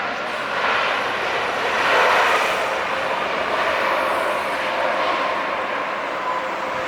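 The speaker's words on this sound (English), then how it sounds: "perfect landing. A lot of smoke, love it. Work that nose gear all the way to me." An SAS airliner lands at LAX: a loud, steady jet roar from the aircraft swells and then holds as a continuous broadband rush, with no voices over it.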